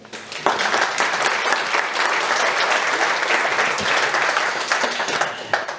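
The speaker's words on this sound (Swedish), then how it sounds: "Och de får väl ändå en applåd." Steady, loud applause fills the hall from a conference audience at Ståldagen 2023, a Swedish steel industry event, clapping for executives on stage, with dense continuous claps lasting several seconds.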